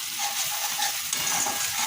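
Egg curry masala with turmeric, Kashmiri chili powder and salt sizzles in a pan while being stirred, a steady close frying hiss with soft scraping of the spoon, no voices.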